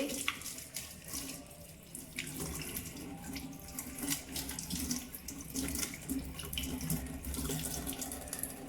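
Hands scrubbed under a running tap during an aseptic hand-washing routine, a steady close stream of water splashing into a sink with small shifting splashes throughout and no voices.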